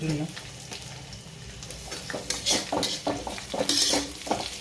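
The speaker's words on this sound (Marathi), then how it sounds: "आणि आता जे काही कट केलेली ढोबळी मिरची ती टाकून घेते मी ती परतून घेणार आहे" Chopped capsicum sautéed with onion in a kadhai, steady sizzling mixed with repeated spatula scrapes and clinks against the pan, growing busier toward the end.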